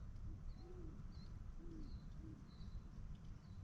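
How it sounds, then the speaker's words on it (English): Owls hoot at night near a campfire at Rancho Seco, a few soft, low hoots at a distance, faint under a steady outdoor hiss, with thin higher calls drifting in between. "I don't know if you can hear the owls."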